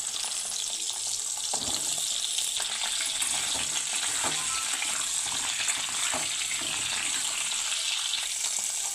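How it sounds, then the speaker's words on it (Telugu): Drumstick pieces frying lightly in hot oil, a steady close sizzle lasting the whole stretch, with occasional soft clinks and stirring sounds. "ఇందులోని ములంకాడలు వేసి ఫ్రై చేసుకుందాం లైట్గా."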